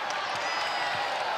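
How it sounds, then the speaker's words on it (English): Iowa State Cyclone fans in an arena at a women's Big 12 basketball game against Houston send up a steady, continuous crowd roar with cheering and scattered whoops. "can hear this crowd. They're trying to fire up."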